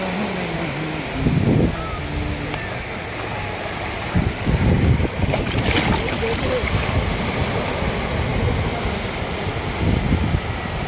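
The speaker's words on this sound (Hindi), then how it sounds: "आइए आपको लहर दिखाता हूँ हमारे दाना पानी बीच का।" Sea waves wash ashore at Dana Pani Beach in Mumbai, a broad roaring surf with swelling surges and wind buffeting the microphone, loud and close throughout.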